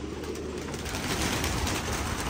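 Pigeons cooing in a loft, the soft low calls blending into steady background noise at a fairly quiet level, with no voices present.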